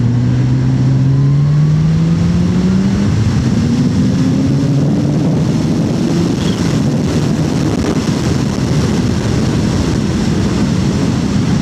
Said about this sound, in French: Mon petit jouet, c'est un H2 SX Kawasaki.